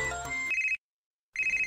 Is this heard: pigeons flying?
no